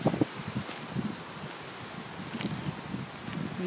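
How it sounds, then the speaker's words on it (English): Wind blowing outdoors, rustling leaves in soft, uneven gusts with faint breathy noise, quiet and continuous with small bumps of louder rustle. "Bit windy."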